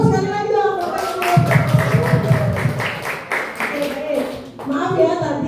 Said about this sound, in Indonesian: Kita berikan tepuk sekali lagi dong Bapak Ibu.